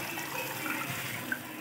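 Water, about one and a half glasses, poured into a pot of cooking baalti gosht curry: a close, steady splashing gush lasting under two seconds, with no talk over it.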